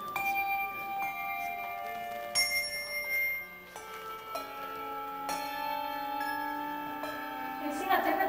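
Handbells rung by a group inside a church sound one after another, each clear metallic tone ringing on and overlapping the next, over a quiet room hum.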